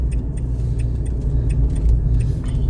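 A car engine hums low and steady at close range as the vehicle pulls away, with faint light clicks and rattles over the continuous rumble.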